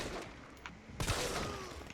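Pistol fire in the Resident Evil 3 Remake video game: a single sharp, punchy shot with a brief ringing tail, preceded by faint muffled game noises, moderately quiet overall.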